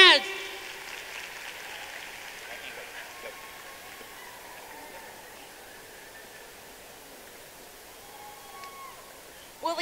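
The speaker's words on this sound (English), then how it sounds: "Everybody clap your hands." A large convention crowd at the Georgia FFA state convention claps hands together, a steady, fairly distant wash of applause lasting throughout, with faint voices mixed in.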